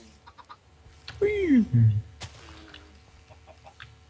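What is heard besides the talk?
chickens clucking in a video game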